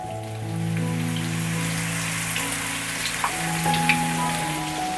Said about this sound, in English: Take potatoes and slowly put on the pan